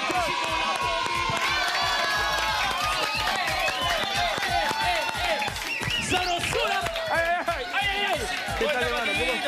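A studio audience cheers and claps on a Peruvian TV sports show during a performance, with loud, continuous crowd shouting and voices filling the whole stretch.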